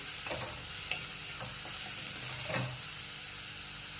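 Spinach sautéing quietly in a pan, with a soft, steady sizzle broken by a few sharp scrapes and taps of a stirring spoon against the pan.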